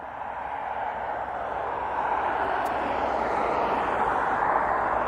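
A West Atlantic Boeing 737 lands at East Midlands Airport at night, heard as a loud, steady jet roar that swells slightly and holds without pause.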